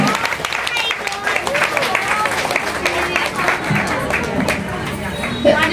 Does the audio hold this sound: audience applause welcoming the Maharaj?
yes